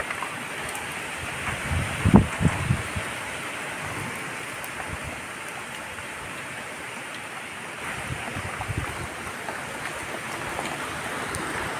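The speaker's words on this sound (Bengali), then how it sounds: "বৃষ্টির মধ্যে দাঁড়িয়ে আছি, মানে খুব জোরে বৃষ্টি পড়ছে না" Light rain falls outdoors after a storm, a soft, steady wash of drizzle with a few low thumps early on and no voices.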